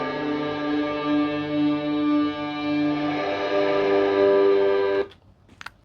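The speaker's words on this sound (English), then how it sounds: "I used a saw synth with my distorted guitar sound with a tube screamer" A heavily distorted electric guitar through a Tube Screamer sustains a buzzy chord blended with a bright saw synth, washed in echo, then cuts off abruptly into scattered faint effect tails.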